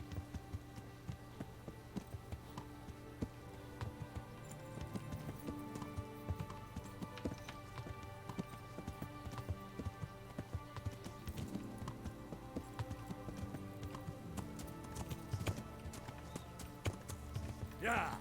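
Horse hooves clip-clop steadily in a medieval video game about Henry of Skalice, a continuous rhythmic trot of close, moderately loud hoofbeats lasting throughout.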